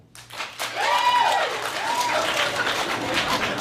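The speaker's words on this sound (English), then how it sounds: "Okay, so romantic, really sweet, applaud now." An audience breaks into applause, a rising wash of clapping mixed with drawn-out vocal reactions from the crowd, continuing to the end.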